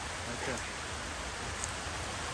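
Steady rain falling outdoors, a dense even hiss of drops on surfaces that stays constant and fairly faint throughout, with no clear voices.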